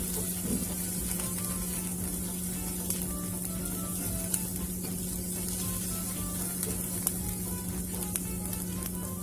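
Onion with green chili and ginger sizzles steadily in a pan for street-style egg bhurji, a dense continuous frying hiss with occasional faint clicks of stirring.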